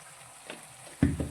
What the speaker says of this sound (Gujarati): હવે આ તેલમાં આ લોટને પણ આપણે સારી રીતે શેકીશું.